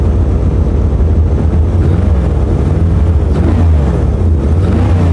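A car engine cold-starting on a winter day, with ice on the engine, runs loud and rough in a continuous uneven drone with irregular stumbles as it misfires.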